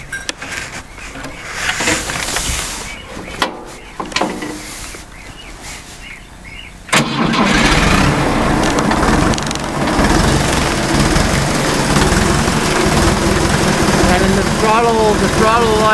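An old Fiat 352c farm tractor's diesel engine cranks and fires, then settles into a loud, steady idle, with someone talking early on and birds chirping nearby.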